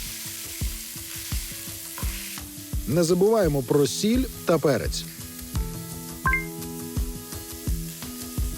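Burger patties of pressed ground-meat balls frying in a pan, giving a constant close sizzle with scraping and stirring clatter, while someone speaks over it in Ukrainian.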